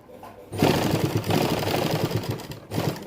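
A sewing machine stitches fabric piping onto a garment, starting after a quiet moment with a loud rapid mechanical whir and rhythmic needle thumps, pausing briefly mid-run and then resuming close up.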